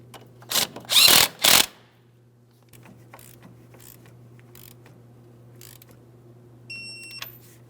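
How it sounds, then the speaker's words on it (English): Ratcheting and mechanical clicks from snugging and torquing a castle nut on a tie rod end of a 2003-2008 Toyota Matrix, a few loud bursts near the start followed by faint tool clicks and a low steady hum. "snug it up and torque it to 36 foot-pounds"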